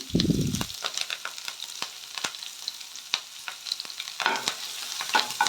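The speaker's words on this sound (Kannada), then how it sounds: "ಇದು ಈರುಳ್ಳಿ ಎಲ್ಲ ಕೆಂಪಿಗೆ ಫ್ರೈ ಆಗಬೇಕು" Onions, green chillies and curry leaves fry in a pan while being stirred. A spoon clatters and scrapes in sharp, irregular strokes over a soft sizzle, and a brief low rattle opens the sequence.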